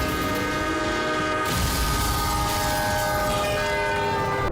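A train strikes a car parked across the railway tracks at a crossing, with a loud, sustained blast of the train horn and heavy rail rumble carrying through the whole moment.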